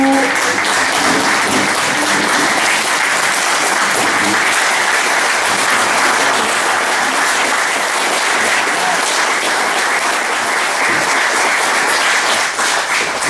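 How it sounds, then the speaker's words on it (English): Sustained audience applause honoring Donna Muncy for 30 years of service to the Cliff Hagen Boys and Girls Clubs, a dense, steady wash of many hands clapping throughout at full loudness. "I want to give a particular thanks and shout out and applause to Donna"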